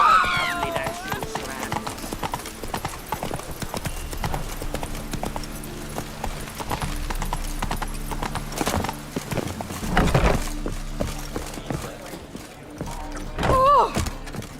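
Roach, a horse in The Witcher 3, trots with steady, close clip-clop hoofbeats, with occasional whinnies and game voices talking over the hooves.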